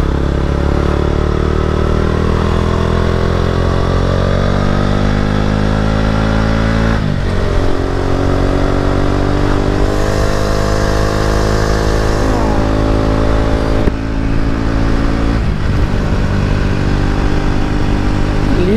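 A Yamaha R15 motorcycle engine pulls away and rides off, its loud, steady note rising through several gear changes with brief dips between shifts, close and continuous throughout.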